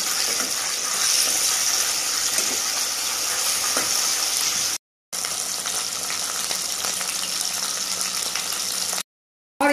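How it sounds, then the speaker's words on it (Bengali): Hilsa fish frying in hot mustard oil in a wok, a loud continuous close sizzle and crackle that fills the clip, broken by two brief silent gaps. "গরম হয়ে গেছে, আমি মাছটা এবার কড়াইয়ের মধ্যে দিয়ে দিলাম।"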